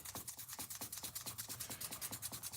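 A knife blade, a Buck 503 or Schrade 881Y under restoration, is rubbed with 2000 grit sandpaper in quick regular back-and-forth strokes, soft and close, about eight strokes per second with no talk.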